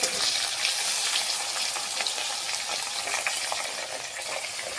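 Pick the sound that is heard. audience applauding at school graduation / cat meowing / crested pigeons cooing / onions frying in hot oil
onions frying in hot oil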